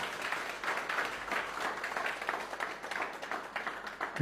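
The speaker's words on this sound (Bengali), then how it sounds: "প্লিজ জোরদার তালি হবে তাদের জন্য একটা" A crowd claps steadily in applause, a dense patter of many hands sustained throughout at moderate loudness.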